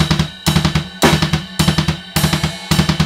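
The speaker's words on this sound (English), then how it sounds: "just have consecutive sets of 4 hits on the bass, just like this." Double bass drum pedals on a drum kit play consecutive sets of four rapid hits in steady repeating bursts with short gaps between groups, loud and close, with ringing cymbal wash over the top.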